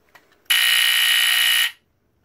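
BRK 769AC-I smoke detector alarm blaring in a single loud, harsh, raspy electronic tone for just over a second, close up, then cutting off into silence.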